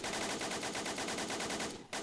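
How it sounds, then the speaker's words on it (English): Sustained rapid machine-gun fire from a VZ-30 in Men of War: Assault Squad 2, a loud, continuous burst of evenly spaced shots with a brief break near the end before firing resumes. "Here we have a machine gunner armed with a VZ-30 machine gun"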